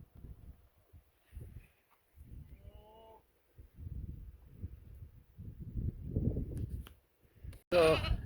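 Goats bleating in a backyard pen built from scrap materials, a few wavering calls scattered among rustling and shuffling, one loud near bleat closing the sequence.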